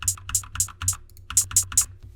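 Crisp, undistorted hi-hats in a trap drum beat tick in a quick, even pattern, each hit sharp and bright over a low, rumbling 808 bass line.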